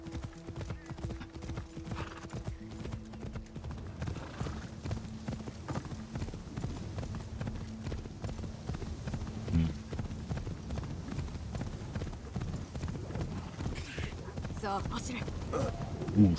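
Horse galloping in Assassin's Creed Shadows, rapid rhythmic hoofbeats drumming steadily throughout, with a brief whinny and a voice talking now and then over the pounding.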